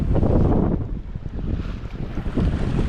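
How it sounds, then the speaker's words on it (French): Wind gusts buffet the microphone while water rushes past a sailboat running along the coast under mainsail alone, loud and close. "Une navigation tranquille, poussée par le vent."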